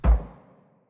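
A single deep, booming rumble hits hard and then rolls off quickly into a fading low tail, like distant thunder.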